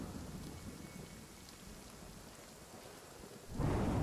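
Steady rainfall in the survival video game Nightingale, a continuous hiss with low rumbling, growing sharply louder and heavier in the last half second.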